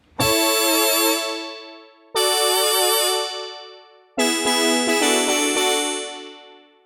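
Three sustained synth notes played on a Studiologic Sledge synthesizer, each with an instant attack, a full sustain and a release tail. The third note is a brighter, denser chord with quick rhythmic stabs inside it, loud and alone.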